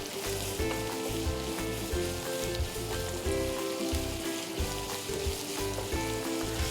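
Sliced onions sauté in a pan with a loud, dense, continuous sizzle, joined by a rhythmic thumping and scraping of stirring throughout.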